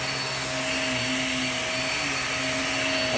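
A vacuum cleaner runs steadily at close range, a loud continuous motor whine with a few sustained tones drifting slightly in pitch over a broad airy rush, with no voices.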